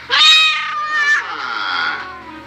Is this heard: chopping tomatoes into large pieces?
no